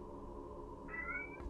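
A cat meows in the horror game Cry of Fear, one drawn-out, wavering cry rising late over a steady low ambient drone, fairly faint and alone.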